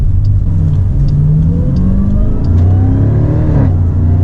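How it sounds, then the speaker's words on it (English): A supercharged 707-horsepower Jeep Grand Cherokee Trackhawk engine revs up, its supercharger whine rising and falling across the clip, with a throaty exhaust note underneath; steady, close and loud throughout. "you hear that supercharger come to life, and the exhaust actually sounds pretty good"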